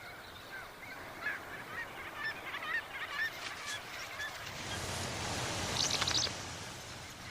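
Ancient murrelet parents in wild Russia call to their chicks with a series of thin, chirping cries over a steady rushing background, ending in a louder cluster of calls.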